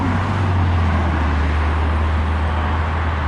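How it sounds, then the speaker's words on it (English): Freeway traffic roars beside a road near Anaheim, heard from a scooter or bike ride. It is a loud, constant broadband wash of passing vehicles with no pauses and no talk. "Sorry about the noise in the freeway"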